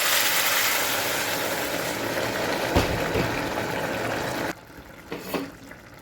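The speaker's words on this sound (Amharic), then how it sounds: "ሙቅ ውሃ ነው የሚጨምረው።" Hot water pours into a pot of vegetable soup with garlic, making a steady, close rushing splash that stops abruptly near the end, leaving a few soft knocks and no speech.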